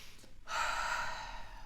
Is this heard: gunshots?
no